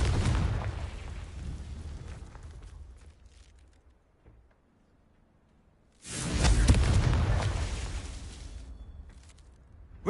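Confringo blasting spell in Hogwarts Legacy: a booming burst that trails off into near silence, followed by a second loud, low explosion that rumbles and fades slowly.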